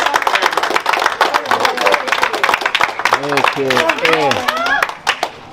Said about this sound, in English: Is it we give Warren one more round of applause?